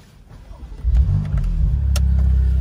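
BMW M2 CS on its stock exhaust, fitted with particulate filters, idles low and then revs up sharply about a second in, holding a loud, close, throaty drone to the end.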